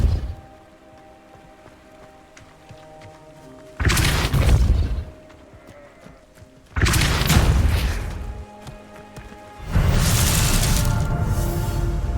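Depulso spells cast in Hogwarts Legacy, three loud booming bursts about three seconds apart, each a second-long blast over quiet game ambience.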